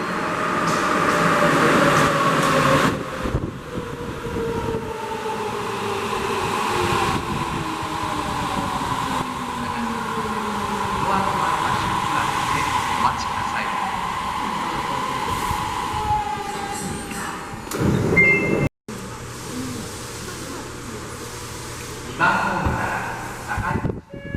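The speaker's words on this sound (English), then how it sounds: "Here comes our subway train." A subway train rumbles in with a descending mechanical whine, its roar gradually slowing. Brief bursts of louder clatter and a few voices can be heard nearby.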